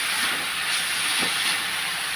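Shredded cabbage and vegetables sauté in a hot pan for homemade vegetable noodles, giving a steady, close, even sizzle that carries through without pause and with no voices.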